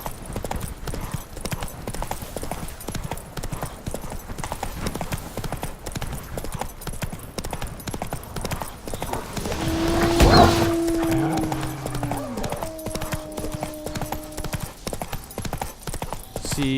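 Roach the horse from The Witcher 3 trots steadily with a continuous clip-clop of hooves, a brief whinny and game music tones rising near the middle before the hoofbeats carry on.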